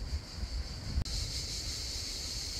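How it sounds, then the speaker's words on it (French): Strong wind rushes across a microphone on a high mountain hiking trail, a loud continuous roar with a momentary dropout near the middle before the gusting resumes. "il y a un vent de folie ici, en hauteur"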